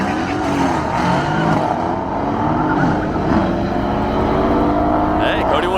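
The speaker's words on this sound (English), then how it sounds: "So this track has no prep on it, so we're all gonna be doing burnouts." A Mercedes-AMG car does a burnout launch on an unprepped drag track, its engine roaring loud and continuous with rising and falling revs, while voices carry in the background.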